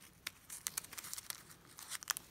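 Scissors snip into applique fabric in quick, faint, irregular cuts with a crisp crinkling texture, close up and without speech.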